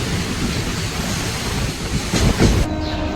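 Steady rumble of a moving overnight train heard from inside a sleeper berth, with rattling wheel noise and a few louder clunks toward the end.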